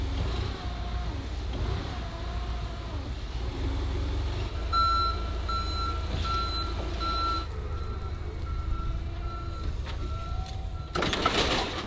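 Repeated reversing beeps from a forklift in a car-build workshop, a steady evenly spaced tone pulsing through the middle of the clip over engine rumble and shop noise.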